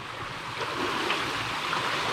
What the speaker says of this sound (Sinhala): දිය පාර මැදින් යන්නේ.